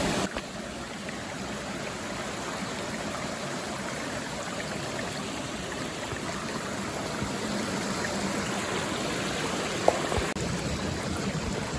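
Stream water flowing in the Peak District, a constant broadband rushing and burbling close to the microphone, steady and loud for the whole stretch with a faint tick near the end.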